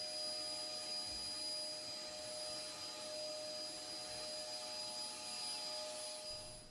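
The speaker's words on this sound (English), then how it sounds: "I particularly wanted to get some brush attachments for my smaller shop vac so that I could hold it" Small shop vac fitted with a brush attachment, cleaning high, neglected spots: a steady, even whine and rushing airflow, continuous and fairly faint throughout, with no speech.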